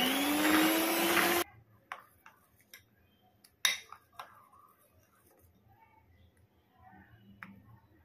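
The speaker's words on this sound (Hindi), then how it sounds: "ओरियो बिस्किट और मिल्क मेक डाल के मैंने ब्लेंड कर लिया है।" A kitchen blender whirs loudly for about a second and a half while mixing Oreo biscuits and Milkmaid for ice cream, then cuts off, followed by a few faint clicks and taps.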